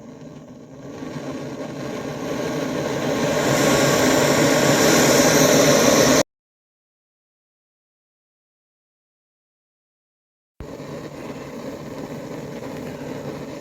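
A lightweight backpacking gas stove burns under a coffee pot, a steady broadband roar that swells as the flame is turned up, then cuts out briefly before the same close, even hiss returns.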